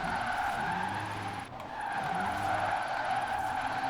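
Tires screech steadily as the Rimac C Two hypercar drifts through a drift zone in Forza Horizon 4. The sustained squeal runs loud and continuous over engine hum, with a brief dip midway.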